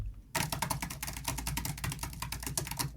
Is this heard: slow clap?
no